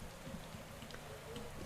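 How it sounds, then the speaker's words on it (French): Steady rain in the cycling video game Pro Cycling Manager 2015, a soft continuous hiss of falling rain at constant level with no voices. "Alors qu'il pleut, il pleut beaucoup."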